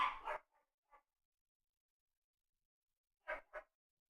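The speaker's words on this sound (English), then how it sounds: "these dogs are fucking manic" Dogs bark in short bursts, a couple of sharp barks at the start, faint yips, then two more barks after a pause, fairly quiet overall.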